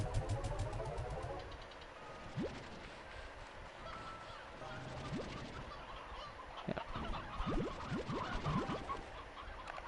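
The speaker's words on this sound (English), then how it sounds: "I didn't even realize that there's still sea hens in there." Sea hens in Slime Rancher 2 cluck and honk in a noisy overlapping flock, with short rising calls scattered through a steady background hum, no speech.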